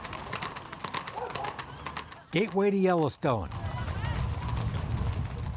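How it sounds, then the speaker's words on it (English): Hundreds of horses are driven through the middle of Gardiner, Montana, for a Memorial Day weekend horse drive, with rapid, steady clip-clopping hooves under a narrator's voice, briefly joined by a loud drawn-out call. "drive hundreds of his horses right through the middle of town"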